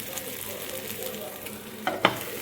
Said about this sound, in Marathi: आता आपण हे दुसरी बाजू शालो फ्राय करून घेऊया